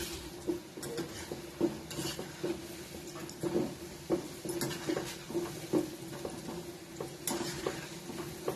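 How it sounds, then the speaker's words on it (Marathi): Rice flour kurkure fry in hot oil over a medium flame, with soft sizzling beneath repeated light scrapes and stirs of a utensil against the pan, fairly quiet and close. "चांगली तळून घ्यायची."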